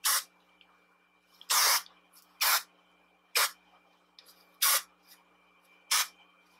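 John Frieda anti-frizz hairspray hissing onto hair in six short bursts, each about half a second long, evenly spaced and close, with quiet gaps between them.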